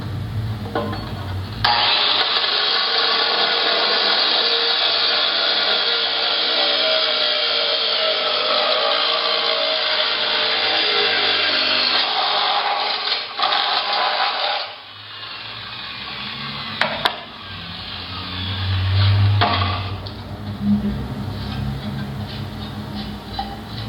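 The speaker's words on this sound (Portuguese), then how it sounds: "Agora eu vou furar a telha aqui." A power drill bores a hole through a roof tile, grinding loudly and steadily for about fifteen seconds before the whine briefly dips. It then resumes with a few short, harsh bursts.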